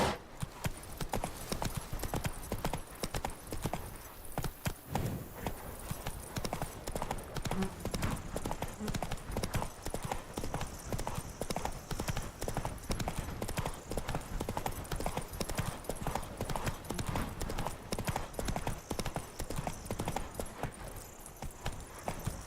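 Roach, a horse, gallops in a steady rapid clip-clop of hooves that carries on loud and close throughout, with a brief whinny and some faint voices in the mix.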